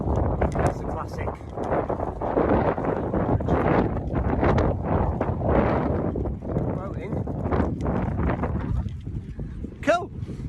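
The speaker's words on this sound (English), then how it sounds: "Oh, it's windy." Gusty wind buffets a cyclist's microphone on a bridge crossing, producing loud, uneven low roaring bursts while a person talks over it.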